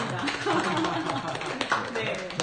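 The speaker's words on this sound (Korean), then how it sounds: "이현주 의원님께 뜨거운 박수 부탁드립니다" Brief clapping from a small audience on a Korean political talk broadcast honoring a lawmaker, scattered hand claps heard under ongoing talking and light laughter.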